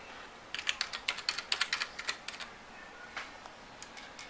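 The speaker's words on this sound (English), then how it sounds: "we're going to type in our password" A password is typed on a computer keyboard during an Ubuntu install: about a dozen crisp keystrokes in a quick burst, then a few scattered taps, close and soft in a quiet room.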